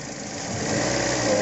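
A Toyota Altis engine with an ignition coil pack fault revs unevenly, running rough and misfiring; a steady, close mechanical drone that builds slightly in loudness over the short stretch, with no talk.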